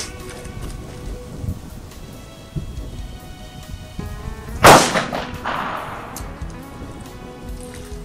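A single full metal jacket bullet fired into beech wood gives one sharp, loud report at mid-clip, followed by a short decaying echo over a steady background rumble.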